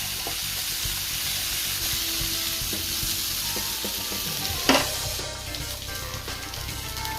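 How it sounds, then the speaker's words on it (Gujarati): Corn kernels and capsicum roast in a hot pan until crispy, giving a steady loud sizzle with stirring and scraping throughout and one sharper clatter near the end. "આ બંનેને થોડા ક્રિસ્પી થાય ત્યાર સુધી આપણે શેકી લેવાના છે"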